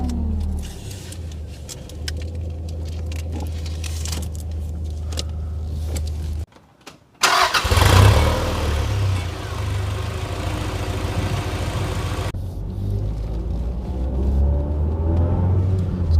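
A 1990 Toyota MR2 Mk2 (SW20) with a new exhaust idles with a steady low rumble, cuts briefly, then cranks and fires back into a firm, even idle close by.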